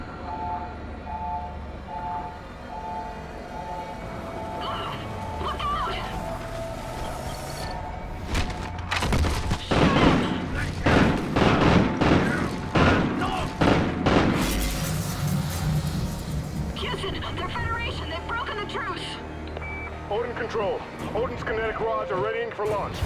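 Heavy gunfire and booming explosions during a battle at the Odin space station control in Call of Duty Ghosts, with a dense stretch of blasts in the middle, wrapped in urgent radio chatter and shouting.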